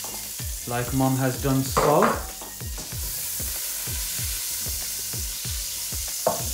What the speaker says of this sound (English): add the butter into the pan